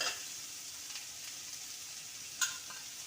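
Onion and green chilli sautéing lightly in a pan, a faint steady sizzle close by with one brief sharp scrape of a utensil near the end, no talking.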